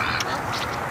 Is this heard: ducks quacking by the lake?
yes